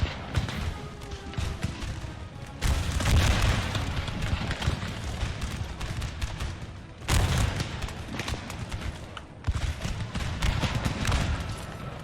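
Musket volleys in the Napoleon: Total War video game, modded with DarthMod, during a Hungary campaign battle: repeated loud bursts of crackling fusillade and booms, rolling on and off in waves.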